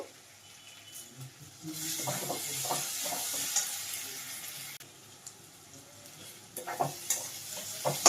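Ground cumin and coriander sautéing in a pan for Bhola fish curry, a soft steady sizzle with scraping stirs, louder in the middle and again near the end, no talking.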